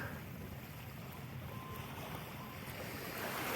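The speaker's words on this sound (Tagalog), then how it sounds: "pinapakinggan mo lang yung bawat alon" Ocean waves washing in a low continuous rumble with some wind, steady and alone, swelling slightly toward the end.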